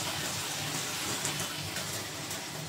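Water pours steadily into a cooking pot of pork adobo, a continuous close splashing and gushing that runs unbroken and fairly loud for the whole moment, with no voices over it.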